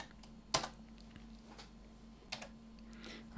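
A computer keyboard is typed on to rename a track in Cubase VST music software: a few sparse, quiet key clicks, close and alone, over a faint steady hum.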